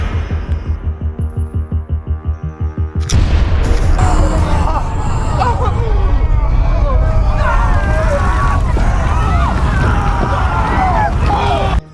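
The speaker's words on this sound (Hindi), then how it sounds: "कैसा लगा धमाका?" A deep booming blast erupts suddenly, followed by a sustained loud rumbling roar with crackling debris, after a rhythmic throbbing low hum.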